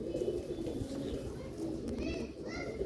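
Sialkoti pigeons coo softly in a loft, the low coos running under nearby talk with a few faint higher bird calls near the end.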